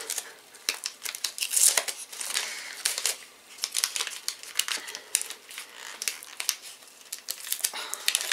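Paper crinkling and tearing in irregular bursts, close up, with occasional sharp rips and rustles as taped wrapping is pulled open on an advent calendar gift.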